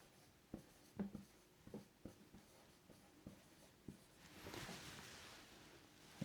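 Pen or marker writing by hand on a board or paper during a storytelling lesson: a series of short, quiet scratchy strokes in irregular bursts, then a longer soft brushing rub near the end, no talking.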